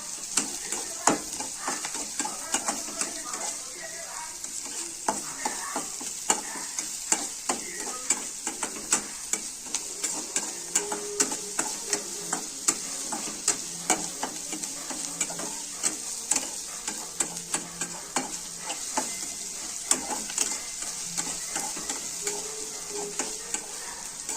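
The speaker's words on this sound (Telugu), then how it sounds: "వేయించుకోవాలి బాగా" Milk burji frying in a pan, with a steady close sizzle and frequent sharp scraping ticks from a spatula stirring throughout, no voices.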